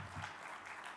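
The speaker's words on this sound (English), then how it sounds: "A round of applause, ladies and gentlemen." Brief patter of audience clapping at a formal launch event for an Indian government education platform, faint and steady for about a second.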